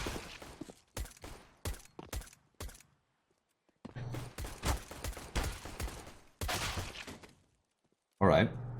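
Gunfire from a Counter-Strike match on the Inferno map, heard as bursts of sharp shots in several clusters separated by short pauses, fairly loud and close, with a louder burst at the end.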